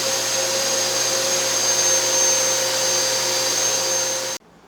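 Blower on an air track in a physics lab experiment, giving a loud, steady, whining rush of air that runs for about four seconds and then cuts off abruptly, with no talk.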